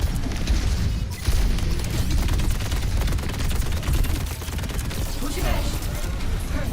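Online shooter gameplay with a grenade going off amid gunfire, a dense, loud barrage of rapid shots and booms filling the clip, with players talking over the din.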